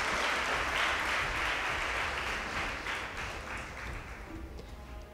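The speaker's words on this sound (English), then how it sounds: "A better round of applause." A crowd at a school competition semi-final gives a steady round of applause for both teams on stage, a dense wash of clapping that eases slightly toward the end.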